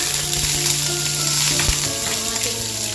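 Lemongrass sizzles in hot olive oil as the base for gambas, a steady broadband frying hiss running close and continuous throughout with no talking.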